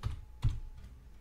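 A couple of soft computer keyboard keystrokes, light dull taps close by with a pause between them, in a quiet room.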